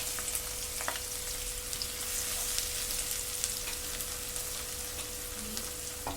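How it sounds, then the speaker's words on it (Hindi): Finely chopped onions frying in a pan for chana chaat, giving a steady, soft sizzle with occasional crackles and faint stirring, continuous and alone throughout. "अब इसमें बारीक कट की हुई अनियन डालेंगे और थोड़ी देर चला लेंगे ताकि ये थोड़ी सॉफ्ट हो जाए"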